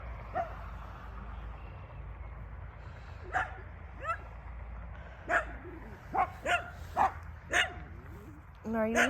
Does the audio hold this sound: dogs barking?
yes